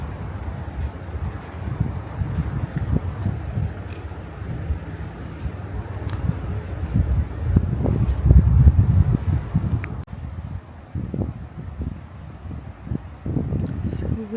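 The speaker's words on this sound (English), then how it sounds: "It's windy and chilly out here." Gusty wind buffeting a microphone outdoors at a stone site in New Hampshire, a continuous low rumble that swells and dips, loud and close, with occasional voices underneath.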